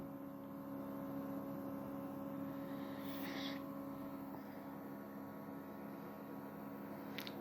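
A circulation pump running on power from an HP T1000 G3 UPS gives a faint, steady electrical hum with constant tonal whine, quiet and alone.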